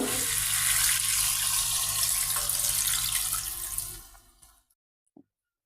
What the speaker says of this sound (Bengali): এই যে ঝোলের জন্য পানি দিয়ে দিলাম